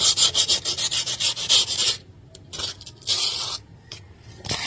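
Rhythmic back-and-forth sandpaper strokes rasp against a rusty steel chair, fast and close, then a pause followed by a few slower scrubbing passes.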